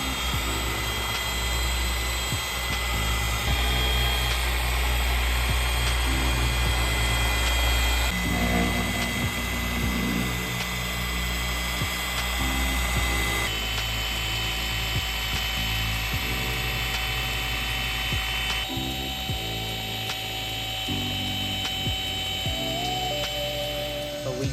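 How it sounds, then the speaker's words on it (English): A machine polisher runs paint correction on a 2022 Tesla Model 3, a steady mechanical whirring hum that stays loud and close, its pitch shifting slightly as the pad works across the paint, with no voices. "we're gonna see if we can do a correction to polish that out"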